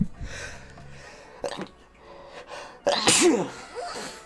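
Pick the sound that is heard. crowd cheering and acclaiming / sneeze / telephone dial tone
sneeze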